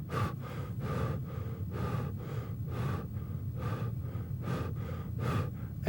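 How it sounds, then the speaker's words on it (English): Rapid, forceful breathing during an energy work exercise: about a dozen quick, evenly spaced breaths, each a sharp airy rush through the nose or mouth, close and fairly soft, with no talk. "It's okay to breathe rapidly, just for a few seconds."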